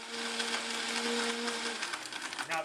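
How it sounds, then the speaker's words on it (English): A Vitamix blender breaks up ice, its motor roaring loudly and continuously with rattling, crunching grind as the cubes are chopped, close and alone. "So I'm going to break up the ice first."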